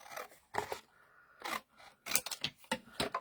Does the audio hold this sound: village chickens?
no